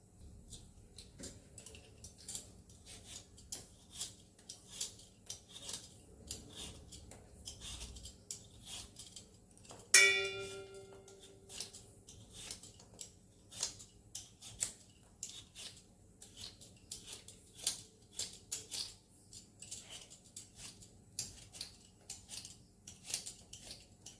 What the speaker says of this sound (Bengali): এবারে আলুগুলো আমি ছুলে নেব।